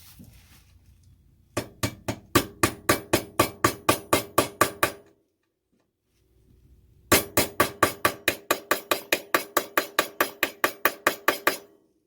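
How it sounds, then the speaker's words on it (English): Two runs of quick, evenly spaced hammer taps on a steel transmission crossmember, each a steady series of sharp clinks, separated by a pause, close and loud. "I need to tap it down. Where's my hammer?"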